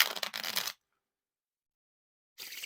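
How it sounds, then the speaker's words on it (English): Bicycle Bone Riders playing cards are shuffled close by: a dense crisp riffling burst, then a pause, then another shuffle beginning at the end, with no talking. "Like they're nice and like clicky and nice when you're whiffling them down, and they're more softer when you're doing like the bridge."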